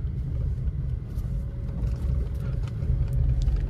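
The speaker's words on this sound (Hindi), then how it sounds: "अब जैसे ये मेन खड्डा है इसमें लेके जाता हूँ गाड़ी को" A Maruti Ignis car drives through a large pothole on a road, heard from inside as a steady low rumble of road and engine noise with faint bumps, no talking.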